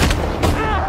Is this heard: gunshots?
yes